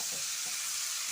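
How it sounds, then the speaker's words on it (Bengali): Chickpeas and potatoes frying with turmeric in a pan, a soft even hiss of oil with faint low stirring thumps, brief and quiet, no talk. "তারপর দিচ্ছি একটু হলুদ গুঁড়ো, আবার একটু ভেজে নেব সুন্দর করে"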